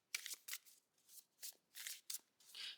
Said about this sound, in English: I'm just giving it a shuffle